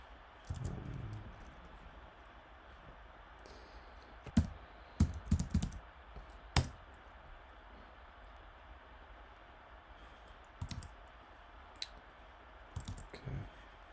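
Computer keyboard keys click in short bursts as a command is typed, with scattered sharp taps and pauses over a quiet room hum.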